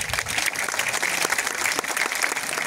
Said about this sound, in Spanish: Despidámosla con un fuerte aplauso.